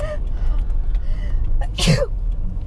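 A single sharp sneeze from a passenger inside a moving 1977 VW Classic Beetle, set off by dust, breaking over the constant low road and engine rumble of the car.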